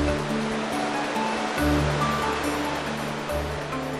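Rough sea waves surge and crash against the rocky shore of Christmas Island, a steady roaring wash with a few louder breaking swells close by.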